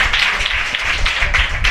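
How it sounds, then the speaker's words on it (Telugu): A church congregation clapping hands together in praise, a dense, continuous patter of many hands close by, filling the short moment without speech. "చప్పట్లు కొట్టి దేవుడికి వందనాలు తెలియచేద్దాం"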